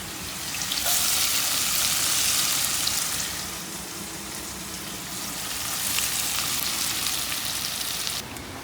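Chopped onions frying in a pan for egg korma, a loud continuous sizzle close by that eases slightly mid-way and then surges again, with no talking.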